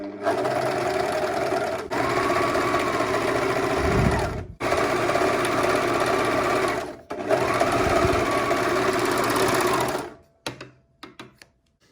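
A 2-thread serger overlock runs loud and close while stitching knit t-shirt fabric, a fast continuous whir in three long bursts with short pauses between, then a few quiet clicks after it stops.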